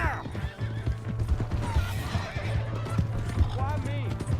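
A stolen horse in Red Dead Redemption 2 whinnies shrilly while its hooves clop along at a gallop, loud and close, with a steady low game tone beneath and voices shouting over it.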